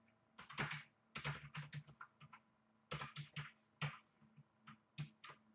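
Keys on a computer keyboard clatter in quick irregular bursts with brief pauses, fairly faint and close, with no voices.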